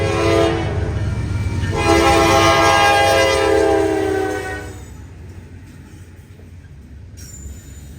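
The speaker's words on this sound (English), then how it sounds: "enjoy this Norfolk Southern stack train headed east down the waterfront" A Norfolk Southern double-stack container train rolls eastbound along a waterfront, its horn sounding loudly over steady wheel and car rumble before the horn cuts off and the rolling noise continues more quietly.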